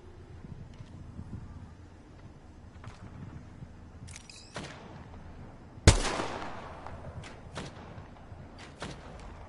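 Gunfire in Apex Legends, with scattered distant shots followed by one sharp, loud blast and a few quieter trailing cracks over a low background rumble.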